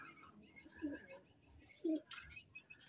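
Racing and stock pigeons coo in a loft, two louder throaty coos rising above a soft bed of chirps and faint rustling at close range.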